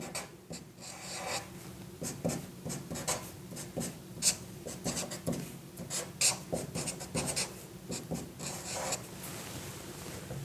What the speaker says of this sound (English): So let's write the mechanism